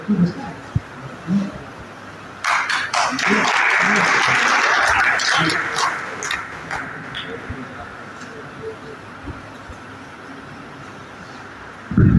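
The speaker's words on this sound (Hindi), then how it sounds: "जोरदार ताली" Audience at a community honours ceremony breaks into loud applause that swells for several seconds and then fades, with an announcer's voice heard before and after the clapping.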